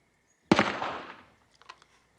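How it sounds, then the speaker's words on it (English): A single sharp gunshot in a film scene cracks out loud and close, its echo trailing off over about a second, followed by a few faint ticks and knocks. "Someone's shooting."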